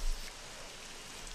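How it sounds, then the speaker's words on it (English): Heavy rain pours down in a steady, dense wash of noise, loud and unbroken throughout with no voices over it. "It's raining very heavily."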